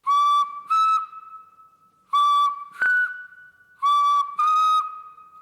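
A shrill ceramic whistle sounds in paired bursts, sliding tones that imitate a harpy eagle's piercing cry, repeated three times with short pauses between.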